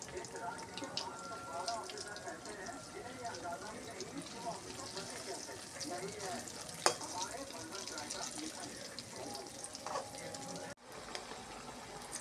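Jackfruit cutlets coated in biscuit crumbs sizzle steadily in hot oil, a dense, even crackle filling the whole stretch, with a brief clink partway through.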